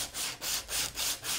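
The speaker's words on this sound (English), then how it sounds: "you take a strip of your sandpaper" A strip of sandpaper works back and forth over a rollergun muzzle, giving five rhythmic, close, hissing rubbing strokes with short gaps between them.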